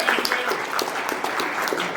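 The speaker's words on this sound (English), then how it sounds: "Round of applause for all our judges." An audience applauds the judges at a game jam event: a steady, dense round of clapping that holds at the same level for the full two seconds, with no voices over it.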